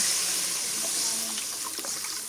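Water splashing and running into a cooking pot for fish curry, a short close gush with faint clinks, no voices.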